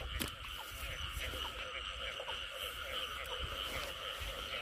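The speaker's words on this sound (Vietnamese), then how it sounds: "Còn ếch đực cũng kêu không." Male field frogs croaking in a rice paddy in Vinh Long on a windy night, a dense continuous chorus of overlapping calls at close to middle distance, steady throughout with no voices.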